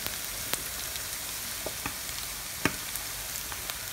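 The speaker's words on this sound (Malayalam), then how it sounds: "നമ്മുടെ സവോള പയ്യെ ഏകദേശം ഇങ്ങനെ ചെറുതായിട്ട് ഇങ്ങനെ വഴന്നു വരുന്നുണ്ട്" Onions sautéing in oil in a pan, a close, even crackling sizzle with occasional sharp pops and light clicks from stirring.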